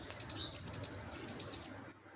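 A few birds, bulbuls among them, chirp in short bright bursts around a rural village rooftop in the morning, faint and some way off with no voices present, before falling quiet near the end.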